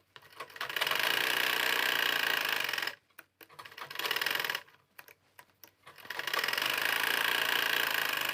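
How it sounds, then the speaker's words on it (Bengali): A sewing machine runs in long, steady rattling bursts while stitching bra fabric. Two short pauses break the run, with a few stop-start stitches between them, before it runs steadily again. "একটু সেলাই করে নিচ্ছি।"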